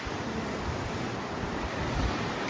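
Calm, smooth open Atlantic water seen from a Royal Caribbean cruise ship, a soft continuous wash of waves and wind rushing steadily and evenly, faint and distant with no voices.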